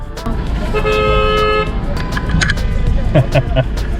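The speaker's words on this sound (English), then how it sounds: "Got a few horns going on." Several car horns honk in Turkish street traffic around a stalled van. There is a sustained horn blast near the middle, short toots follow, engine rumble runs underneath, and voices talk briefly over it.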